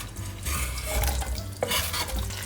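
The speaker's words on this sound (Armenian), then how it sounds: "Առաջնահերթ տապակելու ենք սոխը, ինչպես գրեթե բոլոր մնացած բաղադրատոմսերում։" Onion sizzles steadily in butter in a hot pan while a utensil stirs and scrapes in short strokes, close up and without voices.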